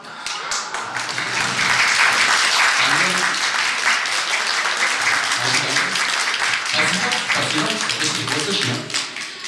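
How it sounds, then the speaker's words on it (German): An audience at a folk dance performance by a folklore group claps in applause, dense and close with some rhythmic stretches, while a voice talks over it. "Ihnen gebührt natürlich auch ein Beifall"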